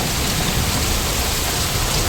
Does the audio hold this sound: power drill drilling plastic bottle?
no